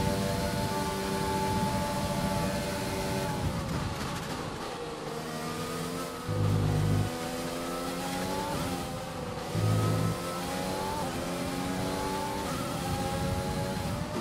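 Formula 1 race car engines roar in the F1 2020 game at a Belgium race, a continuous high-pitched engine whine that sweeps up and down through gear shifts, with two brief low thuds midway and no talk.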